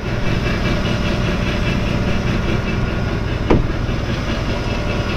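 A heavy diesel tractor engine, revved to 1300 rpm while spraying herbicide on rapeseed, runs at a steady, loud idle-to-high rev, droning continuously with a brief clunk midway.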